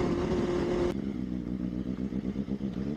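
Benelli 600i or KTM Duke motorcycle ridden fast: a loud sustained engine drone drops off abruptly, then continues as a lower, pulsing rumble with rapid rhythmic firing beats, close by throughout and without talk.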